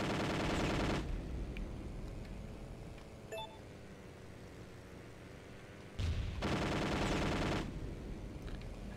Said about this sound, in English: As you can tell, the machine guns are much more powerful than before.